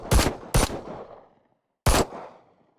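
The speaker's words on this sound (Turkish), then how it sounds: "P350 tabanca seviye 10 ses efekti." Three sharp pistol shots from a P350 handgun at level 10 in the mobile shooter Glory Frontline, a pair in quick succession then a third after a pause, each loud and close with a short decaying tail.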